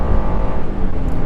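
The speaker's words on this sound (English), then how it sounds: "We get some revs from this naturally aspirated V6" The naturally aspirated V6 of a 2022 Honda Passport Trailsport revs up, a brief steady engine drone heard from inside the car at moderate loudness with no talking.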